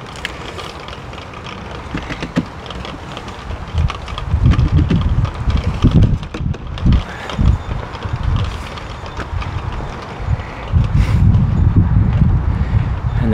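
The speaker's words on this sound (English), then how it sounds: "it's so windy." Strong January wind gusts across an open allotment, buffeting the microphone with deep, uneven roaring surges that build and fade, growing heaviest toward the end. No one speaks.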